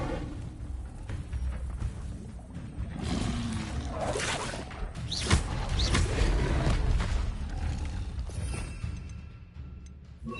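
Spell effects from Hogwarts Legacy, with the Incendio fire spell among them, play as a dense, busy run of whooshes, crackles and thuds that swells and stays loud throughout, with no voices.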